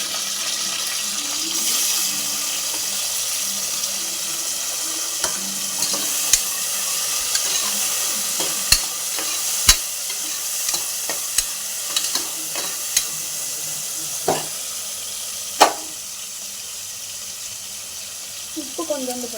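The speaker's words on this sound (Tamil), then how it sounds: "நல்லா வதக்கிக்கலாம். வெங்காயம் வதங்கிச்சு," Onions and tomatoes sautéing in a pan hiss steadily with a bright, constant sizzle, broken by occasional clacks and taps of a utensil against the pan.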